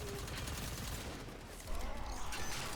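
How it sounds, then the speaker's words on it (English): Automated defense turrets in the Warframe video game firing in sustained, rapid bursts, a dense rattling barrage that grows louder and more crowded toward the end, with no speech over it. "All turrets firing, and not a moment too soon"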